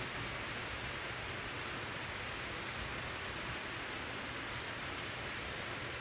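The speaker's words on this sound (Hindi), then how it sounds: "और बारिश की देखो आवाज़ आ रही है, कितनी तेज़ बारिश हो रही है।" Heavy rain pours steadily at night during a thunderstorm, a dense continuous hiss with no thunder standing out and no voices.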